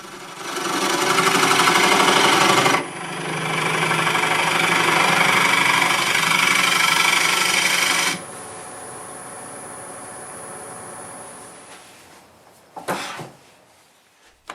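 A wood lathe turns a bowl of urban lumber while the tenon is trued with light cuts, giving a loud, steady whirring drone with a rasping tool-on-wood texture. It shifts tone partway, then quiets to a softer hum with a few knocks near the end.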